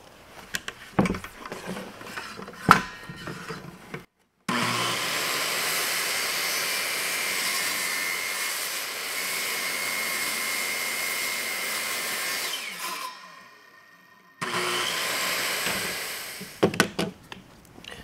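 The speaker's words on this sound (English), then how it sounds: "Now we're going to be going across the grain with the jigsaw." A jigsaw cuts across the grain of a wooden boat bulkhead part in a steady, loud buzzing run of about eight seconds, with shorter knocks and handling clatter before and a second burst of cutting afterward.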